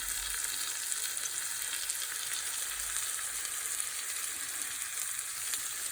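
Fish shallow-fries in oil over a low flame, giving a steady, even sizzle with dense crackling that stays close and constant throughout, with no voices.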